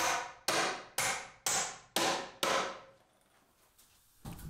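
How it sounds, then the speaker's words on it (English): Hammer blows drive nails into metal joist hangers on garage joists: six sharp, ringing strikes at an even half-second pace, a pause, then one more hit, close and loud. "I also ran around and nailed all the joist hangers into the joists"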